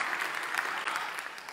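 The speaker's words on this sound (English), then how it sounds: "He deserves an applause." An audience at a Techstars demo day applauds in a steady burst of clapping that lasts a second and a half at moderate loudness, with a faint voice underneath.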